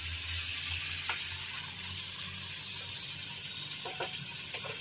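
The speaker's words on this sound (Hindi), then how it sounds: "बस इसी तरह इसे फ्राई करना है।" Plain masala for palak paneer fries in a pan with a low, steady sizzle and a few soft stirring scrapes, close and fairly quiet, with no talk.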